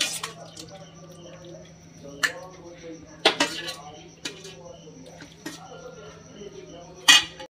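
A cauliflower and potato curry stirred in a pan, with sparse, sharp metallic clinks and taps of the utensil against the pan at irregular intervals over a low, steady hum.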